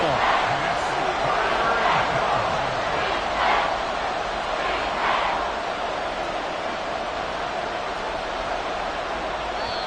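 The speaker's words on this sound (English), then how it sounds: "The Arrowhead crowd in full roar." Arrowhead Stadium crowd in a football video game roaring steadily and loud, a dense wash of cheering that swells briefly in the first seconds then holds at a sustained level, with indistinct voices mixed in.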